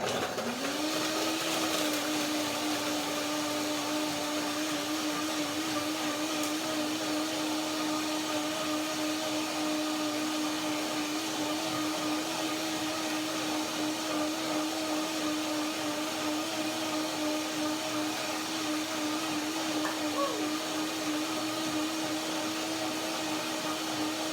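A blender whirs continuously at a steady high pitch, loud and close, blending a lemon almond banana cream, running without a break for the whole stretch.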